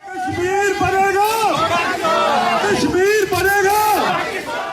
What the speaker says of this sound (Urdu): مظاہرین نے مقبوضہ کشمیر میں بھارتی جارحیت کے خلاف فلک شگاف نعرے لگائے۔